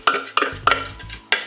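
Crushed biscuits being stirred into melted butter in a bowl for a lemon cheesecake base, a series of scraping, sizzling strokes in a steady rhythm, close and clear, with no voices.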